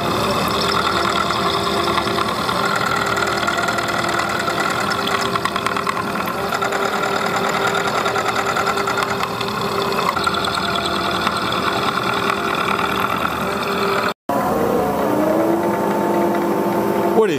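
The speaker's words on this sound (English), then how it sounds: "we'll be ready to cut the hex pocket for this acme nut" A milling machine runs steadily while an end mill cuts a hex pocket for an acme nut, producing a constant loud mechanical whine and chatter, briefly cutting out near the end before resuming.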